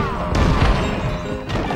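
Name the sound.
cannon destroying a tree in Shrek the Third video game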